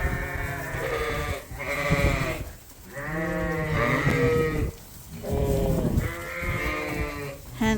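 A flock of sheep leaving their pen, bleating loudly and continuously at close range, overlapping calls rising and falling with short pauses between bursts.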